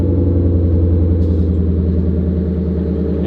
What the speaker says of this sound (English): roll off of that clutch and apply a little bit of gas